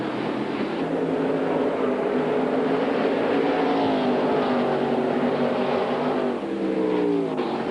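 Stock cars of the 1999 NASCAR Busch Series race at Richmond, engines roaring continuously in a dense, loud pack that rises and falls in pitch as they pass, with no talking over it.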